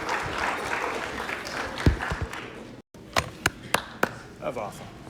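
A lecture hall audience applauds after a pumpkin demonstration, with a mix of scattered claps and talk followed by a few sharp, distinct claps after a brief gap.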